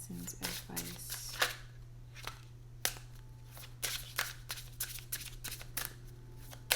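Tarot cards shuffled and drawn during a reading, with a quick run of crisp riffling flicks followed by scattered card snaps and slides, close and fairly quiet over a steady low hum, with a voice speaking at times.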